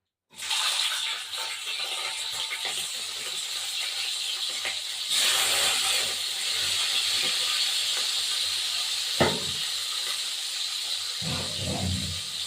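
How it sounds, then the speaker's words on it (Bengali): Katla fish sizzles steadily in hot oil in a kadai, a loud continuous hiss that begins abruptly, swells partway through, and carries a few brief clatters near the end. "মাছ ভাজাটা বসিয়ে দেবো এবার"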